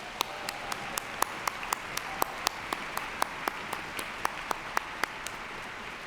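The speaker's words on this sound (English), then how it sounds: "Let's give Norman one more round of applause," An audience applauding Norman Lear at an arts gala, with fairly sparse, distinct individual claps standing out at an even pace against a softer background patter.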